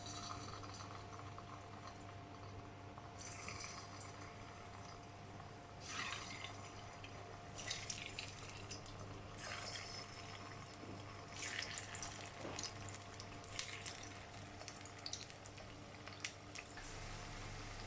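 Cauliflower chilli pieces dropped into hot oil fry with a quiet, crackling sizzle that swells in irregular bursts over a steady low hum, with no one speaking.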